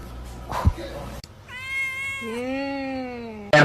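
A cat lets out a long, drawn-out meow that slides down in pitch and sounds close and clear indoors, after a brief thump and a human voice at the start.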